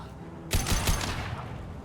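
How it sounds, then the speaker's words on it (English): A short burst of gunfire from the video game Mass Effect, with a few rapid close shots in quick succession over a steady background hum. "Headshot!"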